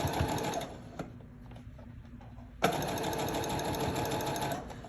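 A sewing machine fitted with a rolled hem foot and set to a longer stitch runs in a loud, steady whir, pauses briefly, then starts up again with an abrupt jolt and keeps stitching.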